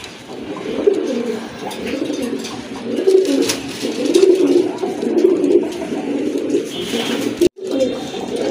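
Pigeons coo steadily in low, throaty, overlapping calls, a continuous soft burble close by with no talking.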